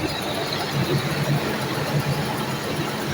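A Yutong bus engine running steadily, a continuous low rumble with a faint hum, close and unbroken for the whole stretch with no talk over it.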